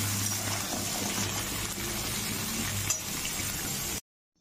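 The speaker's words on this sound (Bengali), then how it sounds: "এখন দিয়ে দিচ্ছি ফোড়নে সবজিগুলো। অল্প একটু ভেজে নিচ্ছি হালকা।" Vegetables lightly frying in a hot spiced tempering for a Bengali mixed vegetable curry, a steady close sizzle with faint clinks of stirring that stops abruptly.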